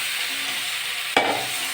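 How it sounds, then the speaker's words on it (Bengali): Potatoes and pointed gourd are added to spice paste frying in hot oil. A soft steady sizzle suddenly bursts into a loud, crackling hiss as they hit the pan, then keeps frying loudly. "এবার আমি আলু পটলগুলো দিয়ে দেবো"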